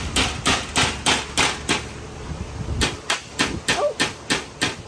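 A hammer strikes a sheet metal wheel tub to form a dimple, giving a close, loud series of sharp metallic blows in quick bursts, roughly a dozen hits with a brief pause midway.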